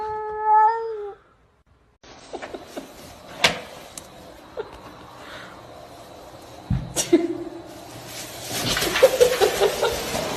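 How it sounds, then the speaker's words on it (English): Cats fight at seven in the morning with harsh yowls and scuffling bursts, following a few clear meows at the start; the noise swells again toward the end, loud and close. "these cats are beefing at 7 a.m."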